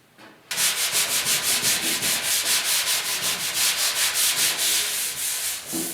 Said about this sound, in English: Now all I'm using here is just my light block with some 150 grit, and just take your time,